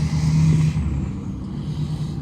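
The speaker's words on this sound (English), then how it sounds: "excuse the trucks" Trucks passing on a nearby road, a loud rumbling pass with a brief air-brake hiss that fades into a lower, steady engine drone.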